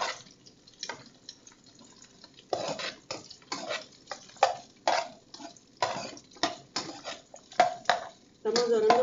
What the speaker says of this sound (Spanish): Estamos dorando la cebollita